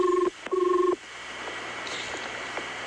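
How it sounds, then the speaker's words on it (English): Two bursts of an overseas telephone ringing tone from a 1977 radio broadcast call, a steady electronic double tone repeated twice in quick succession, then a quieter line hiss. "I like overseas phone call rings better than ours, didn't you? Listen to that."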